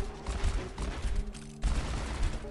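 Rapid automatic gunfire in the first-person shooter Heroes Shooter (英雄枪战), a dense, loud fusillade of shots, close and continuous with a brief dip before resuming, with no voices.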